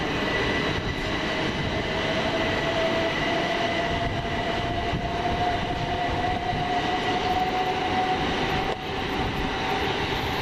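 A Southern electric train pulls out of East Croydon station, a steady loud rumble and rising motor whine filling the platform throughout, close by and continuous with no voices.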